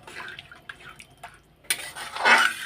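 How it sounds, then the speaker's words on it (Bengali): Water goes into a pot of cooking curry, starting with faint drips and clinks before a short splashing pour near the end, close by and fairly quiet. "তো চলো জল দিয়ে দিই।"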